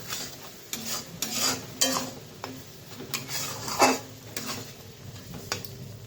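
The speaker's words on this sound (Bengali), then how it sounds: "পোস্তর পেস্টটা। তো ভালোভাবে নেড়ে চেড়ে নিই।" Small prawns with cashew and poppy seed paste stirred in a metal pan, close clinks and scrapes of a spatula in irregular strokes over a faint sizzle, no talking.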